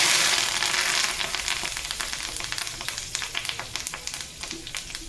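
Fresh curry leaves, tender and still on the stem, crackle into hot tempering oil with mustard seeds and asafoetida, a burst of loud sizzling that settles into close, steady popping and spitting.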